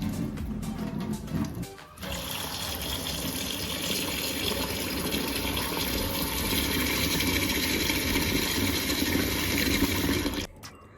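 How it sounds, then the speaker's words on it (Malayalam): Water gushes steadily from a kitchen tap as hot water is drained off boiled quail eggs and cold water is poured over them. A brief clatter comes first, then a continuous loud rush runs for about eight seconds before stopping abruptly. "നമുക്കിനി ഈ വെള്ളം ഊറ്റിക്കളഞ്ഞിട്ട് തണുത്ത വെള്ളം ഒഴിക്കാം."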